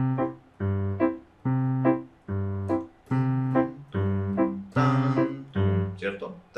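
Piano playing a simple pattern in 2/4 time, about eight evenly spaced detached chords in a steady two-beat pulse, close and clear.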